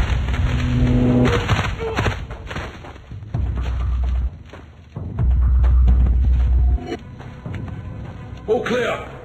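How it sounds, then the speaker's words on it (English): A concussion grenade goes off in the Call of Duty Mobile video game. Heavy low booms and thuds come in bursts under loud game effects and voice chatter, with sharp bright hits near the end. "Concussion grenade!"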